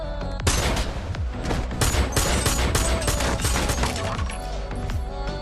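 Dense, rapid gunfire in an action film, a dramatic shootout with overlapping loud shots and sharp cracks packed together continuously over a booming background.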